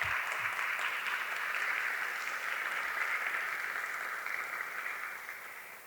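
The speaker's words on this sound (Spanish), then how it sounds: "Un fuerte aplauso para la doctora Erika Martínez" A hall audience at a human genetics academic event gives a sustained round of applause, dense even clapping that holds steady and tapers slightly toward the end, with no voices.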